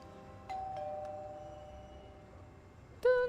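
A doorbell chimes at a home while a city-building game is played, with two tonal rings at the start and a brighter, louder ding near the end, heard alone without talk.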